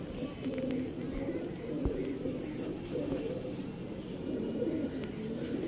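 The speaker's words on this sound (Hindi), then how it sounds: "सियालकोटी छत वाले कबूतर" Several Sialkoti rooftop pigeons coo in low, rolling murmurs, overlapping continuously, with faint high bird chirps in the background.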